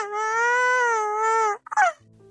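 A voice actor imitates a baby crying in an anime fan voice drama: one long sustained wail followed by a few shaky sobbing breaths, loud and close with no other talk.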